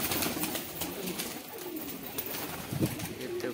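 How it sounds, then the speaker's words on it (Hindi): Pigeons cooing close by as they are let out of their coop, with soft flutters and rustles over a steady outdoor background. "अब कबूतर खोलते हैं।"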